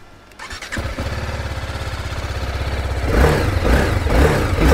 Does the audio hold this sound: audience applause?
no